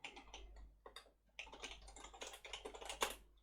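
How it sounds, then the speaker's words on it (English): Code being typed on a computer keyboard for a C library project, a steady run of close, crisp key clicks in uneven bursts with short pauses, no voices. "I'm typing out the code that will let me figure that out"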